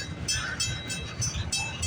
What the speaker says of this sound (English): This is a big train. He's going awfully slow like a turtle.